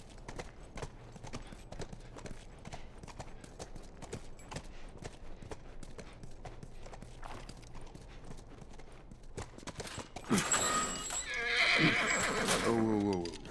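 A horse in the video game The Last of Us walks with a steady, rhythmic clip-clop of hooves, then lets out a loud, close whinny near the end.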